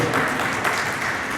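An audience in a hall at a poetry recital claps together in a steady, dense burst of applause that fills the room, with no voices over it.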